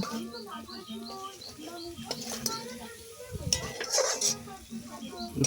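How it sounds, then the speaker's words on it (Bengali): Masala of coriander, cumin, turmeric and chili being sautéed in a home kitchen pan, with a soft sizzle, steady stirring and occasional clinks of a utensil against metal, while someone talks over it and birds chirp faintly in the background. "তো এখন আমি মশলাটা ভালো করে কষিয়ে নেব।"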